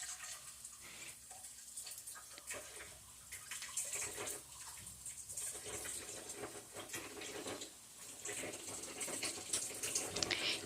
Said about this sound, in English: there's going to be a moment here where you don't see me doing anything because I was at the sink.